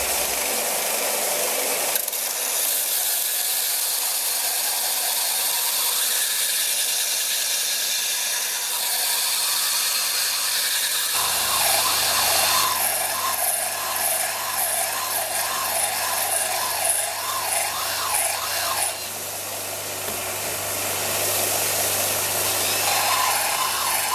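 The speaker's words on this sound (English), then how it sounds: "I've got it as smooth as I can using the belt sander" A belt sander smooths the teeth of a steel Stihl chainsaw file with a steady, loud abrasive hiss and grinding whine, the pitch shifting as pressure changes, running continuously without speech.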